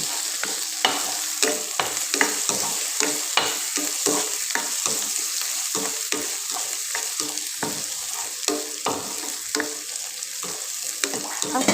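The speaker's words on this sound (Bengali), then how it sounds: "শুটকিগুলো হালকা তেলে ভেজে নেব" Dried fish frying in a little oil, a continuous close sizzle with scraping, clattering stirring strokes breaking through at an irregular pace, no voices.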